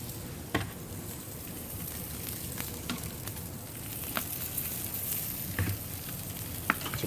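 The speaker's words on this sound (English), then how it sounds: "I'm going to go ahead and put on the zucchini and squash." Zucchini and squash sizzle on a hot grill beside salmon, a steady crackling hiss with occasional sharp pops and clicks, close and alone without talk.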